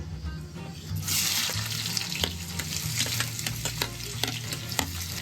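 Cumin and mustard seeds sputter and crackle in hot oil in a home kitchen, a loud, steady sizzle with sharp pops and the clink of a stirring spoon, no voices.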